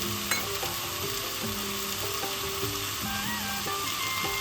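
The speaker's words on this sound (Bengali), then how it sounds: "এবার আমি টমেটো দিয়ে দিচ্ছি।" Tomatoes go into a hot pan for a chicken curry, giving a steady close sizzle with intermittent stirring scrapes and clinks, no talking.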